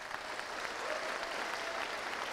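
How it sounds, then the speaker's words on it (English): An audience applauds at a gaming keynote for the winner of a last-chance qualifier, with steady, fairly distant clapping filling the hall throughout. "A round of applause for Henry."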